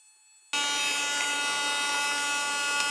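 Mini Henry desk hoover, a small toy vacuum, switching on abruptly after half a second of quiet into a steady high-pitched motor whine that runs unchanged to the end.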